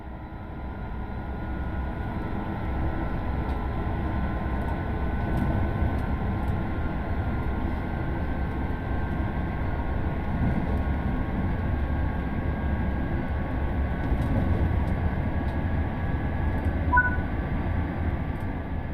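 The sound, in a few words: train running in video game Train Sim World 4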